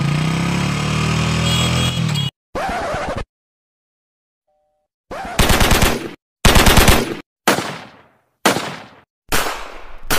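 Video game gunfire comes in a series of sharp, loud bursts separated by short gaps, with a stretch of engine-like rumble before them and a silent pause in between.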